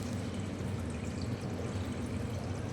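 Water poured over an evaporator coil during cleaning, a steady low splashing flow that continues evenly and fairly quietly throughout.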